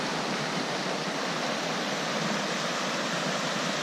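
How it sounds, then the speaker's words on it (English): A mountain creek on the Colorado Trail rushes steadily nearby, a dense, even roar of flowing water with no pauses or talking. "this is the creek I'm wanting to camp by"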